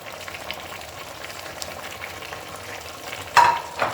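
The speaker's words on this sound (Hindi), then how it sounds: "और इसको अच्छी तरह मिक्स कर लेंगे।" Chicken intestine curry, just dosed with lemon, is stirred in a cooking pot: a soft, steady simmering hiss, then a louder scraping burst near the end.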